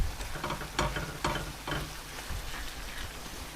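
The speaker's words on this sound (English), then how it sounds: "We're not stewing, we're frying." Sizzling and spitting from a chickpea and spinach curry sauce frying in a pan, with a few louder scrapes or stirs standing out early on over a steady crackle.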